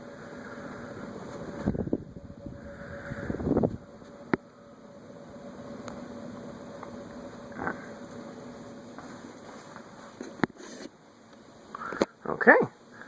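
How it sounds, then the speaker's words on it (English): A Fasco Parlourfan model 938 ceiling fan, 38 inches with cane blades, runs on high speed, giving a steady quiet whir and airy hum with a faint tonal drone, broken by a few brief thumps and rustles. "let's turn it to high with the pull chain"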